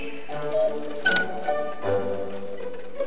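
Cuckoo clocks from a collection spanning over 100 years tick softly in a room, a faint steady pattern of small clicks with a slightly louder knock or two, no talking.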